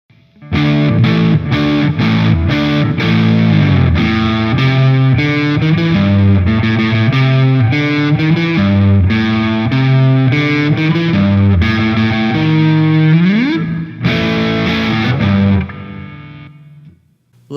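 A 2005 Gibson Jimmy Page Number One Les Paul Custom plays on its neck pickup in split-coil mode through a dirty, distorted amp: a loud, thick rock riff of sustained chords and bends, with a short pause before the final phrase.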